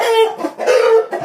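A young Shamo game chicken, a fighting-breed cockerel, giving a few close, loud throaty clucks and rasping calls in quick succession.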